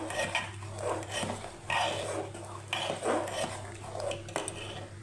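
A spoon scrapes and clinks against a pot while payesh, a thick milk rice pudding, is stirred, with soft repeated scraping strokes close by over a steady low hum and faint room noise.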